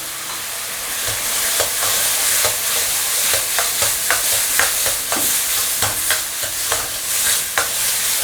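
Tomatoes and a little ketchup stir-fried in a pan, a steady sizzle broken by repeated scraping strokes of the spatula at a close, even rhythm.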